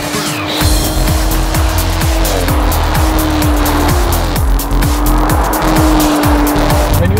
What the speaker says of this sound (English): When you enter in too hot, there is a mild flourish of understeer like this one.